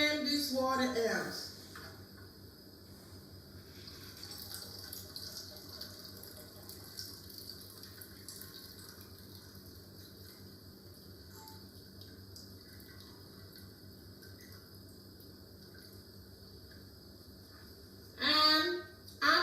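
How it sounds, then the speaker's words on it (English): Water drained out of a cooking pot of boiled food in a home kitchen: a short gushing pour at the start, then a long quiet stretch with faint background, and another brief splashing rush near the end. "What I do is right now, I'm going to drain this water out."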